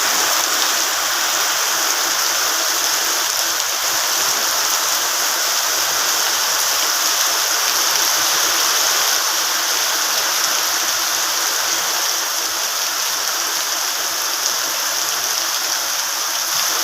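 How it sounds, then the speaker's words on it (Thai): Heavy, steady rain pours down with a dense, constant hiss, loud and unbroken throughout, with no voices. "ให้ฟังสายฝนกันนะครับพี่น้องเนาะ"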